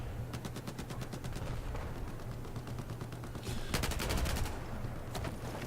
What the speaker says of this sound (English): shooting out those windows for visibility is JT Rat